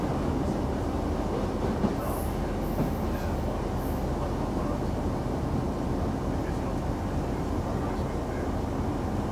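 Steady rumble of a Northern Rail passenger train riding from Barnsley to Huddersfield, heard from inside the carriage as a continuous loud low drone with faint wheel clatter and a few brief high squeals.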